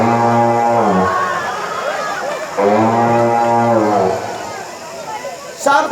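Deep, drawn-out lowing from a bull, two long harmonic moos of about a second and a half each with a pause between, loud and close, followed by a brief sharp clatter at the end.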